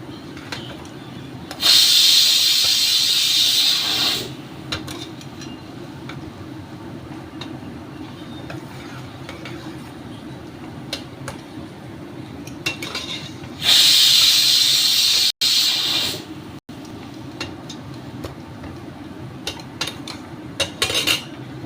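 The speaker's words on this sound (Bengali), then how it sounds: "চিনির সাথে রং ধরা পর্যন্ত এটাকে আমি ভাজবো" Sugar frying in hot oil with spices for mutton pulao, a steady low sizzle running throughout with two louder hissing bursts, alone with no talk.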